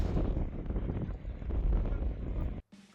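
Wind buffets a snowy mountainside above Balea Lake on the Transfăgărășan road, hard rumbling gusts battering close to the microphone, briefly dropping out near the end before returning.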